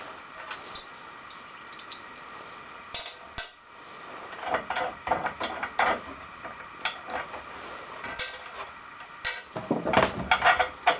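Bolts being removed from a metal earth drill build: scattered metallic clinks and ticks of tools and loose hardware, sporadic and fairly quiet, with short bursts of clatter and no talking.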